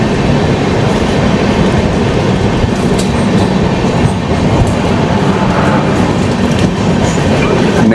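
The Konark Express 11019 passenger train runs on rails with a steady, loud rumble and rattle, heard close from on board, with faint metallic clicks and squeaks on top and no talking.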